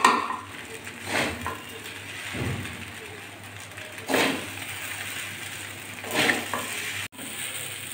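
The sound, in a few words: mixing fried egg, onion, garlic and chilli into Maggi noodles in pan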